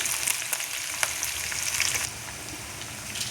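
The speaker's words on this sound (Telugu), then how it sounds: "ఉల్లిపాయలు మంచిగా వేగాలి. లో ఫ్లేమ్లో పెట్టుకొని మంచిగా వేగించుకోవాలి" Onions frying on a low flame for cauliflower curry, a close, dense crackling sizzle with a few spatula scrapes, easing slightly toward the end.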